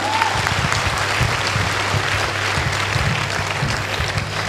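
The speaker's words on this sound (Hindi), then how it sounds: "ऐसे लोगों के लिए जोरदार तालियां दोस्तों जोरदार" Loud, steady applause from an audience at a company recognition event, a dense wash of clapping filling the room for the whole stretch, with no voices standing out.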